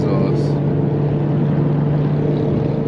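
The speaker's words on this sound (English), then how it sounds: "I love this exhaust." Infiniti G37 exhaust under hard acceleration, a loud continuous droning roar heard from inside the car, steady throughout with a brief voice at the start.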